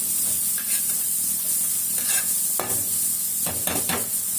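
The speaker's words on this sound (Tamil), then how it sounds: "இப்போ நாட்டு வெங்காயமும் பூண்டும் நல்லா வதங்கட்டும்." Native onions and garlic sautéing in a pan, a steady soft sizzle with occasional scraping stirs of a spoon, moderately close and without talk.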